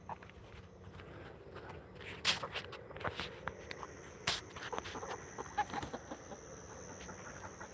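Chickens cluck softly near a farm coop at dusk, faint scattered clucks mixed with footsteps and light rustling in a quiet outdoor setting.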